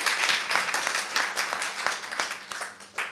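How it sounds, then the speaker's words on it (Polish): An audience at a book premiere and discussion gives sustained, lively applause, a dense wash of clapping close to the microphone that holds through the whole stretch. "Wielkie brawa."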